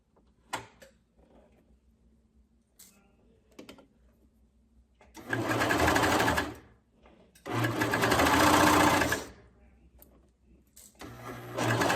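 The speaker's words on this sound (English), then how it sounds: "I'm going to stitch on that elastic, I'm going to disengage my blade." A sewing machine with its cutting blade disengaged stitches elastic onto a ribbed neckline seam. It runs in three steady, close bursts separated by quiet pauses with a few small clicks and handling sounds.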